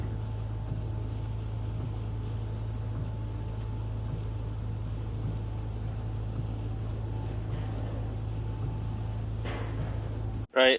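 Steady, loud low rumble of a ferry's engines on the car deck, droning evenly throughout with faint wind hiss, ending in a brief burst of handling noise near the microphone.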